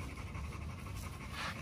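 An XL Pitbull pants during a bath, quick rhythmic breaths close up and fairly soft, with no talking.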